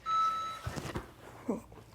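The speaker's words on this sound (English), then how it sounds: "I'm going to get my timer started" A workout interval timer gives a steady electronic beep, holding for about half a second at the start of an at-home low-impact Pilates session, with light rustling and movement on a mat afterward.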